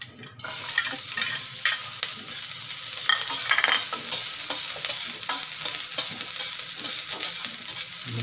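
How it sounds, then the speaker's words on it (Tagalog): Onions sautéing in a pan for a Filipino corned beef and egg dish begin to sizzle after a brief quiet moment, followed by a steady, close crackle with repeated spatula stirring and scraping throughout. "Ilagay po natin yung sibuyas."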